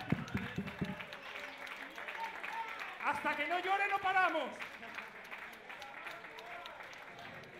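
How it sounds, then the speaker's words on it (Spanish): A concert crowd at a band contest semifinal claps and cheers, the applause rising and falling beneath loud shouting from a man on stage and some crowd yells. "¡Un aplauso para mi madre!"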